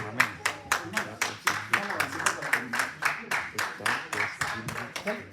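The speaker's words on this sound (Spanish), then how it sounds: "Cuando van a aplaudir, pongámonos de acuerdo para que el Señor sienta que le estamos aplaudiendo a Él." A church congregation claps in a steady rhythmic beat, sharp repeated hand claps at a moderate tempo, with voices singing or talking throughout underneath.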